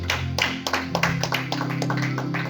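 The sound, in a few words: congregation applauding in church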